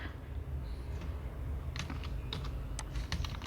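Keys clatter on a computer keyboard during AutoCAD work, a short burst of close, crisp clicks after a quiet stretch of low room hum.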